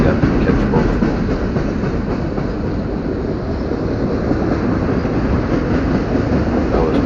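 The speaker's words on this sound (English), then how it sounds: "I saw a Montana Rail Link coming on this" A Montana Rail Link freight train rolls past close by, its loud, continuous rumble and wheel clatter holding steady throughout.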